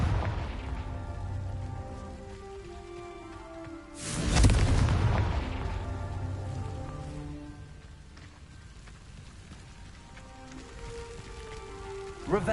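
In the Hogwarts Legacy video game, a Confringo blasting curse explodes with a sudden loud boom and rushing, crackling burst that fades over a few seconds, set against a steady ambient rain-like background of in-game sound.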